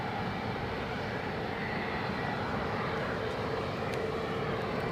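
A WestJet airliner passes at Edinburgh airport with a loud, steady jet engine roar that holds evenly throughout, no voices.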